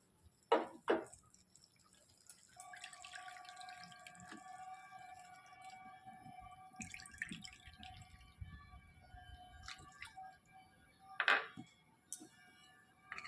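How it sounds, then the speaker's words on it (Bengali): Water, about two bowls, goes into a pot of half-cooked rice, with a few faint splashes and drips at the start and again near the end over a quiet, low background. "এখানে আমি আরও 2 বাটির মতো জল দিয়ে দেবো"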